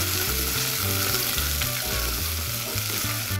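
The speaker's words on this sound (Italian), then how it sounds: "vado ad aggiungere le patate. Fate attenzione perché ora l'olio è molto bollente." Sliced potatoes frying in very hot olive oil in a pan, giving a dense, continuous crackling sizzle with a low rhythmic burble underneath, close and steady throughout with no voices.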